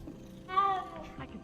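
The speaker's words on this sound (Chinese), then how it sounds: "呼噜呼噜，猫咪" A cat in Hogwarts Legacy gives a short, clear, tonal purr-like call near the middle, with a person talking softly around it.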